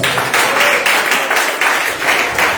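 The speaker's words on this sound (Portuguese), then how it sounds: "Palmas para Jesus." A church congregation claps together in a loud, steady rhythm of repeated bursts close by, with no talk over it.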